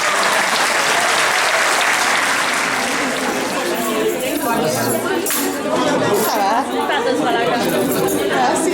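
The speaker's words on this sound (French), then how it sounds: "Voulez-vous applaudir leur jeunesse?" An audience at a Montreal celebration claps while people chatter and glasses clink, the applause thinning into mixed crowd talk.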